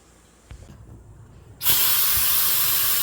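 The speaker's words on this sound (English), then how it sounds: "we're gonna spray some white sealer on here real quick" After a couple of soft clicks, a spray gun spraying white sealer over metal bursts into a loud, steady hiss that continues without break to the end.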